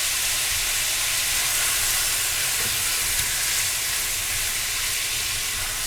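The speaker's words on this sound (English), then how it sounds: "So let that brown up." Beef chunks brown in a hot pan before canning, giving a steady, even sizzle and hiss that holds at a constant level throughout with no talk.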